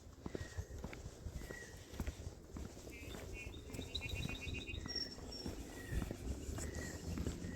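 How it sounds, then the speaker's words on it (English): Birds chirp and tweet along an outdoor trail, faint and scattered above soft footsteps crunching steadily nearby, with the quiet open-air calls rising a little toward the end. "Listen to the birds."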